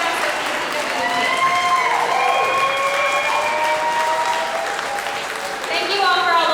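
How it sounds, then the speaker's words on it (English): Audience applause for staff members, a steady wash of clapping under sustained musical tones and a voice that carries over parts of it. "could we please give them all a big round of applause?"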